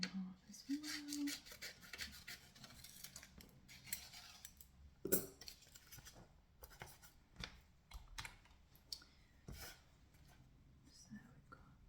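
Scissors cut paper in half with soft close snips and rustling in a quiet library setting, alongside light handling and typing-like taps, while someone speaks softly in between.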